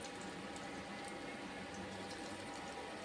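Bitter gourd chips deep-frying in hot oil, a steady dense bubbling hiss that holds evenly throughout, close and moderately quiet with no voices.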